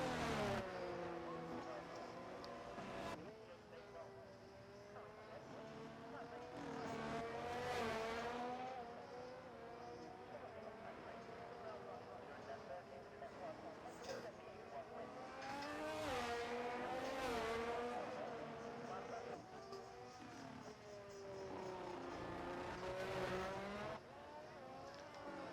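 Race cars lap in a sim racing video game during qualifying at a Mexico circuit, engines droning and rising through gears with repeated passes and occasional tire squeal, a steady continuous roar throughout.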